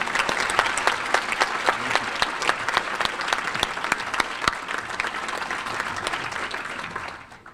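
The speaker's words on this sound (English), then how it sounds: "Will all of you please stand and let's give them a round of well-earned applause." Audience at a club meeting gives a standing round of applause for committee chairs and officers: dense, sustained clapping for about seven seconds, fading out at the end.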